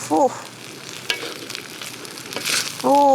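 Kimchi fried rice with anchovies and sliced spring onion is tossed in a hot pan, making close sizzling and scraping stir strokes, and brief voice-like sounds appear at the start and end.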